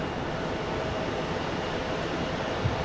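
An airliner lands at Raleigh-Durham International Airport, a distant, steady roar of jet engines and rushing air with no voices.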